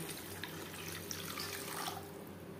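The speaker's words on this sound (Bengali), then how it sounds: "দিয়ে দেব জল।" Water runs steadily into a pan of fish curry cooking over a high gas flame, a soft continuous pour with faint bubbling and no talking.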